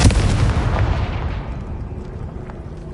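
A Confringo blasting curse explodes in Hogwarts Legacy, a loud booming blast at the start that rumbles and decays over the following seconds, with no talk over it.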